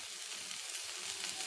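Onions, garlic and ginger sizzle in a pan, a constant close, bright crackle of frying that never lets up.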